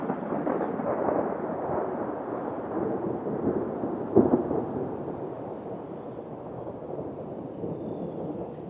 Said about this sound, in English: That would be thunder.